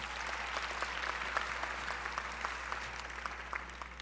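A conference audience applauds a speaker's introduction with even, sustained clapping from a medium-sized room, a low steady hum underneath.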